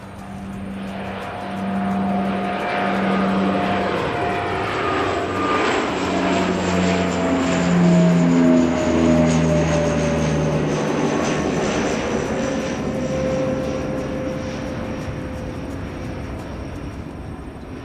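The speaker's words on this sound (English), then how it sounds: "Someone taking off on the 11 in the background, in the Aero Club." A propeller airplane takes off on a crosswind runway at an Aero Club airfield, its steady engine drone rising and then slowly fading and shifting in pitch as it climbs away in the distance.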